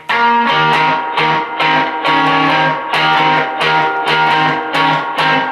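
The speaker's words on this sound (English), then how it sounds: "I'll turn the delay off, and it's just this kind of like rock and roll." An electric guitar played through an amp and a distortion pedal with the delay switched off chugs out rock-and-roll chords in short, rhythmic, loud bursts with brief gaps between them, close and alone.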